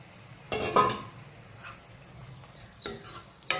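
Tomatoes go into a pan of cooked onions and are stirred with a spoon, giving a few scraping, clattering knocks against the metal over a faint background, with a sharp clink at the end.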